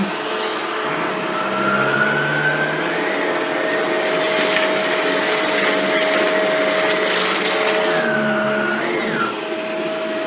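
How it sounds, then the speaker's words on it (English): A Shark Rotator NV752 vacuum cleaner runs steadily on low pile carpet, a loud, constant motor whine with a tonal hum that holds unbroken from start to finish, with no voices. "Now let's turn on the Shark. Quite a bit quieter, it seems, off the bat."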